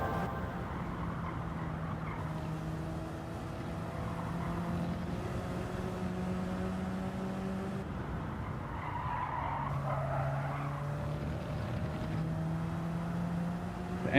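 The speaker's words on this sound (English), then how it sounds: "The engine sounds are just so much different too." Race cars in a racing video game roar with droning, pitch-shifting engines and long squealing tire skids, loud and continuous throughout with no talking.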